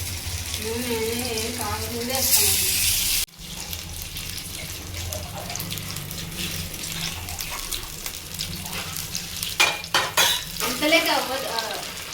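Fish pieces fry in a little oil in a pan with a continuous crackling sizzle, joined by running tap water and a few clinks. Voices murmur in the background.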